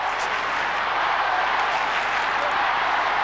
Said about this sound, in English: the crowd starting to get behind their teams now